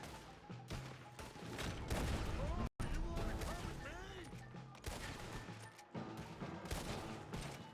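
Dense gunfire rattles through a Red Dead Redemption 2 shootout as enemies are shot, with rapid overlapping shots and booming reports continuing throughout, loud and busy, while people talk faintly underneath.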